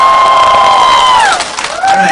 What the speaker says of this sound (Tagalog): Palakpak!